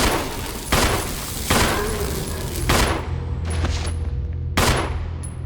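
Gunshots in Resident Evil (2002 remake) ring out loud and close, four sharp blasts spaced about a second apart, each with a short echoing tail, alone without talk.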